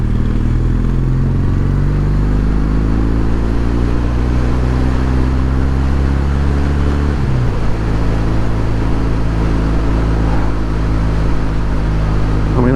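A Kawasaki W800 motorcycle engine runs loud and close, a steady low thrum whose pitch sinks and then settles into an even idle partway through.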